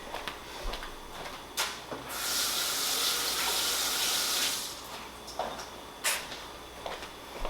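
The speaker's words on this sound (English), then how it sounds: "I'm gonna rinse off my fork." A kitchen tap briefly gushes while a fork is rinsed off, a loud burst of running water lasting a couple of seconds, framed by scattered clicks and knocks of utensils and cupboards.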